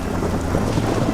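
A steady wash of heavy rain and deep thunder rumble fills a wild Colombian Amazon setting, dense and continuous with no voices.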